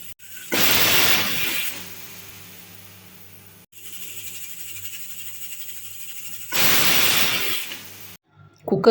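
A pressure cooker releases two loud bursts of hissing steam, each lasting about a second, separated by a quieter stretch of low hum and faint background noise.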